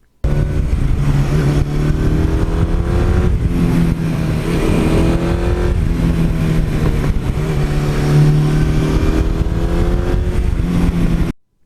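A Suzuki GS1100E motorcycle engine runs loud and close for about eleven seconds, its steady drone swelling and easing in a few rev-like surges, with no voices.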